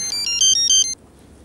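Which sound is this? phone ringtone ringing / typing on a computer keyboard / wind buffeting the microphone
phone ringtone ringing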